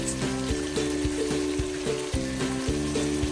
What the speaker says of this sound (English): So I'm gonna leave this to stay frying